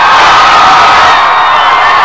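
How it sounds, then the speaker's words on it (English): A large stadium crowd roars and cheers steadily at the Penn State trophy celebration after the 1987 Fiesta Bowl, a loud, dense wall of voices with no break. "the crowd roared nonetheless when the other coaches and defensive tackle Bob White came up on the stage carrying the team's trophies"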